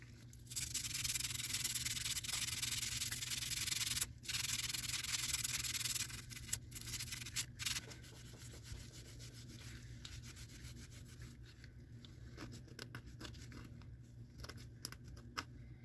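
A corroded, caked acetate handle of a Craftsman screwdriver is scrubbed with steady, rasping strokes, continuous and close at first, then breaking into shorter, more irregular rubs toward the end, with no voices.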